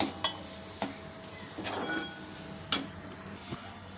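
A spoon stirs a gooseberry side dish with red chilli powder and fenugreek powder in a metal pot, giving a few sharp separate clinks and scrapes spread over a quiet background.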